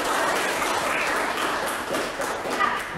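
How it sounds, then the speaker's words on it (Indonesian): Applause from a class of students for a classmate named Louisa after her answer in a culinary lesson, a steady patter of clapping from a small group, fairly close, with no talk over it. "Beri aplaus dulu untuk Louisa"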